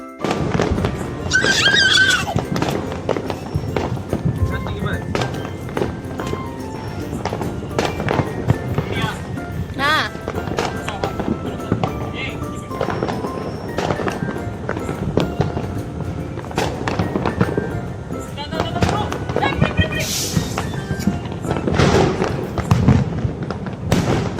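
Repeated sharp bangs and crackling bursts of Deepavali firecrackers and fireworks, some near and loud, with excited voices talking and shouting throughout.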